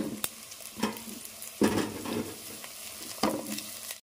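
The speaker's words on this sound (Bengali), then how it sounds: "সেই জন্য আমি এই আলুগুলো একপাশে ভেজে নিচ্ছি" Potatoes fry in a pan with a steady sizzle, broken by three or four louder bursts as a spatula scrapes and turns them, close and fairly quiet overall.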